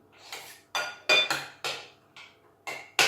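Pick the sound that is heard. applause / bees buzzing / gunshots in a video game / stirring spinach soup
stirring spinach soup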